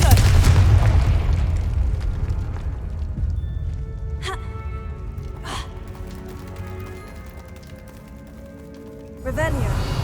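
Confringo fire spell blasts in the video game Hogwarts Legacy: several sharp bursts and booms spaced a few seconds apart over a continuous game soundscape, with a heavier low rumble at the start.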